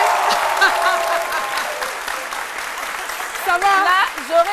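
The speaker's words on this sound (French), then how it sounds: "On applaudit très fort pour la diva de la beauté" Studio audience applause on a live midday TV talk show, steady clapping through the clip with voices rising over it toward the end.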